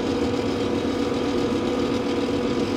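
Arbos 4110 tractor engine running hard at top speed, around 41 km/h, a steady loud droning hum with a constant low rumble and no change in pitch.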